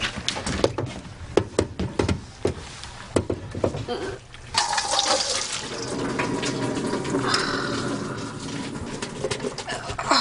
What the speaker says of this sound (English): maybe we should take it to the sink and drain it